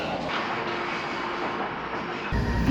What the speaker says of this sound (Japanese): 列車は非電化単線の烏山線へと入ります